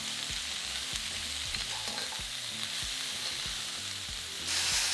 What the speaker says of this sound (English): Add in 2 roughly sliced onions and a roughly sliced red pepper and green pepper. Stir fry for 3 to 4 minutes